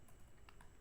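Quiet, quick keystrokes tap on a computer keyboard in a brief burst, faint and close, with no voices.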